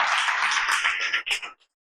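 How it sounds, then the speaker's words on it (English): An audience at a Toastmasters club meeting breaking into applause, a dense patter of many hands clapping together, moderately near, that thins out and stops abruptly after about a second and a half. "Let's give him a big round of applause."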